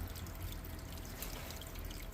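Water slowly flowing through a homemade gold catching machine built for ultra fine gold, a steady continuous trickling wash that holds an even level throughout, with no other sounds.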